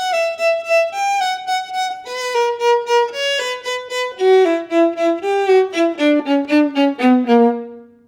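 A solo viola plays the closing passage of a Tchaikovsky 6 excerpt for an NYO audition, a clear descending line of bowed notes in a steady rhythm, ending on a sustained down-bow note, close and alone.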